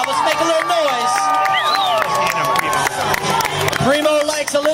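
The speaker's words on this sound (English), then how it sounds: "let's go crowd, let's make a little noise" Crowd noise at a dog diving competition, a live audience shouting and cheering with excited voices rising and falling over a steady din, loud and close throughout.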